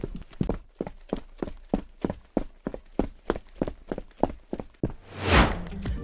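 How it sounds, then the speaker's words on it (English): Player footsteps in a Unity 3D game form an even walking rhythm of about sixteen close, distinct thuds, and a soft whooshing swell follows at the end. "I also added player footstep sounds"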